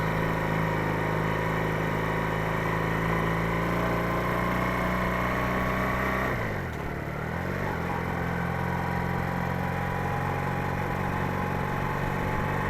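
A Junak M11 Cafe four-valve motorcycle engine idles close by with a steady putter, dips in pitch midway as the revs sag, then settles back to a lower idle.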